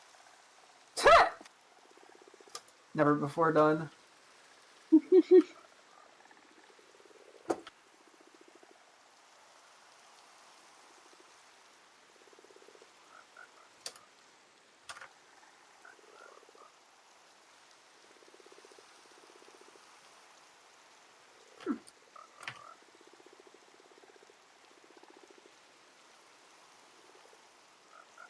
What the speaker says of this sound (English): I'm gonna hang out with the frogs.